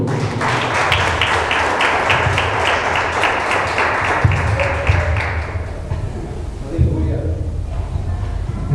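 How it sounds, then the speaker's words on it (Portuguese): Church congregation clapping in quick rhythmic unison for several seconds, then fading out while voices carry on. "As palmas ao Senhor."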